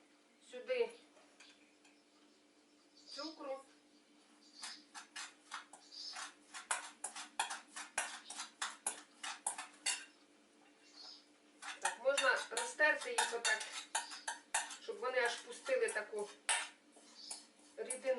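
Yeast being dissolved and mashed in a small bowl, with bursts of rapid clinking and tapping of a utensil against the bowl, close and bright, broken by pauses in which someone speaks.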